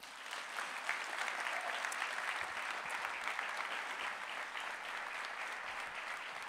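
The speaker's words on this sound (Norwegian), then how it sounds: "Inn med en stor applaus" Audience applause at a choir's Christmas concert, a continuous, even roar of many hands clapping, somewhat distant and steady throughout.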